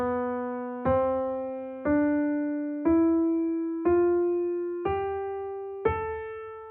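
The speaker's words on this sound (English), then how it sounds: "So Aeolian sounds like this." Jazz guitar playing the Aeolian scale, seven clean single notes stepping steadily upward at about one per second, each plucked attack ringing with bright harmonics before the next, played alone with no voices.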